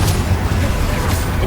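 A Confringo fire blast spell in Hogwarts Legacy, a dense rumbling boom with crackling bursts that stays loud and continuous for its whole short length.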